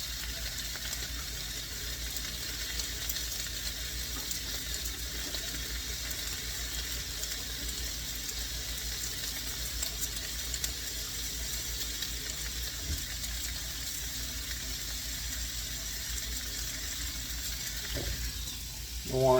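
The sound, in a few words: raw beef sizzling in a hot pan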